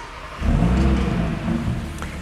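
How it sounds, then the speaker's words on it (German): An Audi RS Q3 engine with a particulate filter and exhaust valve control cranks and catches, settling into a steady, rumbling idle close by, with a brief higher whine near the end. "Dazu starte ich jetzt erstmal den Wagen."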